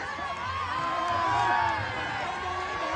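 Crowd noise at a traditional kushti wrestling bout in an akhara, a steady dense roar of voices and cheering with shouting mixed in, close and continuous throughout.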